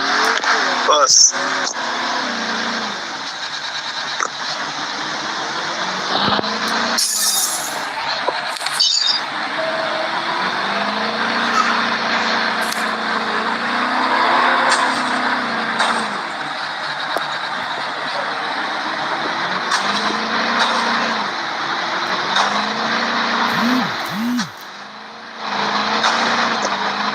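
A bus rumbles along in a Call of Duty match, its engine droning steadily with shifts in pitch, and game effects and voices are heard over it.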